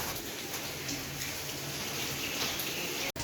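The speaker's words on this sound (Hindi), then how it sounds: "बारिश हो रही है।" Steady rain falls outdoors in Sialkot, an even soft hiss of drops at low level throughout, ending with one brief sharp click.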